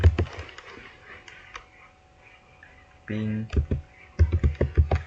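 Keyboard keys clatter in quick bursts while a ping command is typed on a computer, a short run of clicks, a pause, then a denser flurry of taps close to the microphone, with someone speaking briefly in between.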